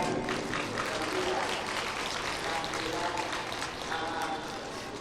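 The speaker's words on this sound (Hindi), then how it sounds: "उनके लिए जोरदार तालियां बजाएं" Loud, sustained clapping from a large crowd welcoming sages at the Maagh Mela gathering in Prayagraj, a dense steady roar of hands with voices mixed in.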